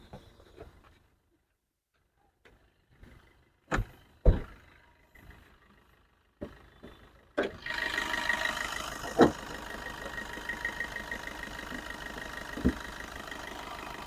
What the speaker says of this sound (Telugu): ఇంజన్ బీటింగ్ చూడండి, చాలా సైలెంట్గా ఉంది.